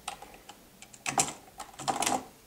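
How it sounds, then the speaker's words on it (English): Quick, light keystrokes on a desktop computer keyboard tap out in short irregular bursts, close and clear, with denser clusters of clicks toward the end. "let's type a bit. Yeah, let's do a quick type"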